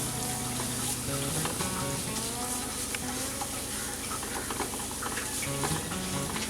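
Fish korma with cumin powder being stirred in a pan over a low flame, a steady soft sizzle with scraping stir strokes running continuously throughout at close range.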